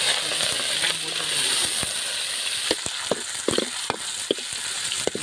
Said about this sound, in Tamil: எண்ணெய் ஊற்றியாச்சு, இப்போ கடுகு போட போகிறோம்.